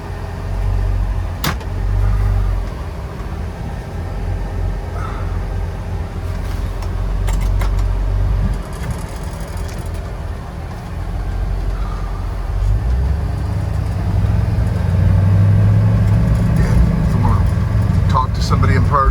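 A 1957 Chevrolet Nomad on a Paul Newman chassis with an LS6 EFI engine driving, a steady low rumbling engine note that swells louder near the end, with talk heard in places.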